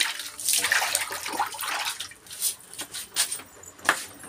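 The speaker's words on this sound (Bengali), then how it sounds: "আমি হাতটা একটু সাবান দিয়ে ধুয়ে নিচ্ছি" Hands washed with soap under running water after handling fish, with splashing and rubbing that swell and fade in uneven bursts, close and fairly loud.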